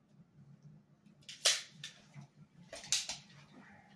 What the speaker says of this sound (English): I'm going to give you some chronograph numbers while I run a couple different type of darts through this thing.